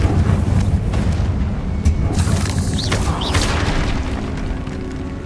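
Confringo blast spell going off in the Hogwarts Legacy video game, a deep rumbling boom with crackling bursts and rolling debris, fairly loud and sustained over several seconds.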